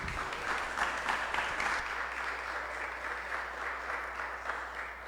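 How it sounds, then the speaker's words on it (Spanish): Audience applause welcoming a guest speaker at a Mexican national journalism award event, steady dense clapping from a crowd throughout, moderately loud and sustained without voices. "Brindémosle un aplauso a nuestro invitado Bruno Salvador Hernández."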